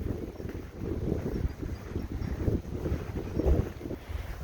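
Strong gusty wind during a January 2022 snowstorm in Jamaica, Queens, New York City, buffeting the microphone with loud rumbling bursts that rise and fall throughout.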